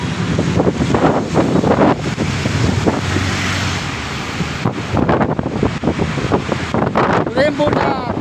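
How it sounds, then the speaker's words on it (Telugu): Cool wind gusts across the microphone in a children's park with a Mahatma Gandhi statue, a steady rough rush that swells and eases over the whole stretch while a person talks. "అదే సాయంత్రం ఇంకా చల్లటి గాలి వచ్చింది అన్నమాట."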